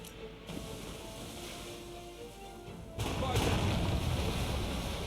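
Heavy booming cannon blasts in the game Uncharted Waters, during a boss fight, under a continuous rumbling game soundtrack, growing louder about halfway through.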